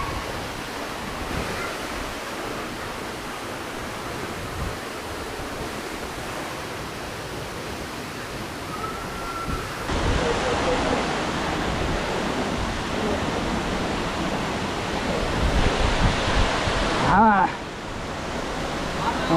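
Agaya Gangai waterfall in the Kolli Hills pours with a continuous broadband rushing roar, close and steady throughout, swelling a little louder partway through.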